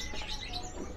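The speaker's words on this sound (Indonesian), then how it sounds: "Raja udang, jantan, dewasa, makannya masih serangga." An adult male kingfisher, an insect-eater kept for sale at a bird seller's stall, gives a quick series of thin, high whistled chirps lasting about a second, fairly close and clear.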